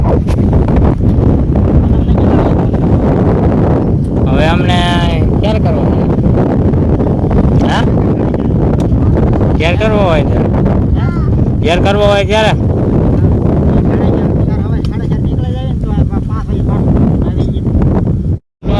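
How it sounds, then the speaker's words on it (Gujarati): Strong wind buffets the microphone throughout with a constant rough roar, while someone talks over it and a few brief whistling tones rise and fall. "પવન આવે છે જોરદાર અત્યારે"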